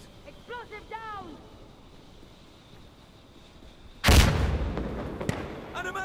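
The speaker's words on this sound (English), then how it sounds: "Throwing grenade! Explosive down!" A grenade goes off in a combat video game with a sudden loud, close blast that rolls into a long decaying rumble, after a few seconds of voices calling out over faint background noise.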